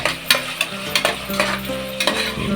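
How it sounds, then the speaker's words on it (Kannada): Tomatoes frying and being stirred in a pan while cooking chicken biryani, with a steady sizzle broken by repeated scraping stirs at close range and no talking. "ಚೆನ್ನಾಗಿ ಫ್ರೈ ಮಾಡ್ಕೊಳ್ಳೋಣ"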